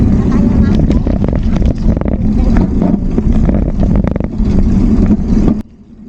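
A motorcycle riding along a road in Indonesia gives a steady mid engine drone with rushing wind. It stays loud and close and then cuts off abruptly near the end, while voices talk over the ride.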